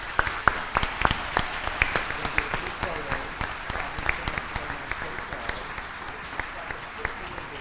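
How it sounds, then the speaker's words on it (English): At a school board meeting, an audience gives All-State Orchestra students a round of applause: a moderate crowd of clearly separate, crisp claps that runs steadily for several seconds without a peak. "Please help me give these students one more big round of applause."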